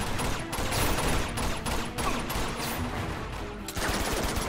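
Rapid gunfire from a shootout in the video game Uncharted 2: Among Thieves, dense overlapping bursts of shots firing almost continuously, loud and close, with a brief lull near the end before shooting resumes.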